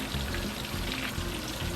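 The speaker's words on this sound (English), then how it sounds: "So you keep frying them" Gray snapper fillets frying in a pan with oil, a dense, steady crackling sizzle that stays loud and even throughout, with no voices.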